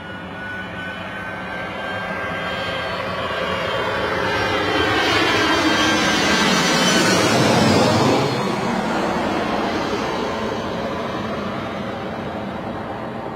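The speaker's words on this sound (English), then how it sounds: "A very positive landing there, shall we say. A little bit of drift corrected at the last minute nicely" An Airbus A320ceo lands at Bristol Airport in murky skies, its engine roar building steadily to a broad loud peak then holding as a sustained rumble while it rolls out.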